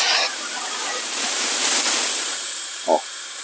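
Steam wand on a Milesto EM19M3 espresso machine hisses steadily and loudly once the steam knob is opened, a continuous sharp spray of steam with one brief low knock near the end.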